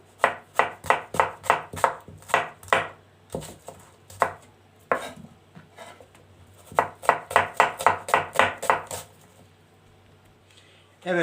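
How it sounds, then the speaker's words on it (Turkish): Rapid bursts of knife chopping onions on a cutting board, two quick runs of steady strokes separated by a pause, close and crisp, with some talking around it. "soğan da jülyen doğruyoruz"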